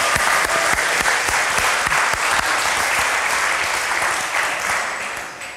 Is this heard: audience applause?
yes